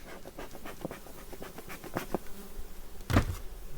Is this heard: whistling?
no